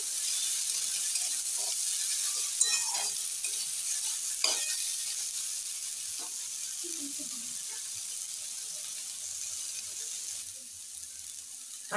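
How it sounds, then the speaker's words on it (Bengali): Onion fries over a low flame with a continuous close hiss, punctuated by occasional scrapes and taps of a spatula against the pan. "লো ফ্লেমে এইটা আর একটু ভেজে নেব।"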